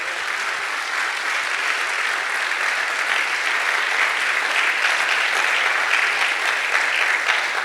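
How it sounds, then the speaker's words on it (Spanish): Sustained applause from a large church congregation during a sermon, steady and full throughout, with many hands clapping at once and no voices standing out. "darle un aplauso a nuestro Dios"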